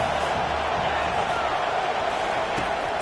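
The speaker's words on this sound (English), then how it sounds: "This crowd rising up, sensing that its defense needs some help." Stadium crowd in an NCAA 25 college football video game, USC versus Wisconsin, a steady roar of cheering that holds loud and broad throughout, with a commentator's voice partly under it.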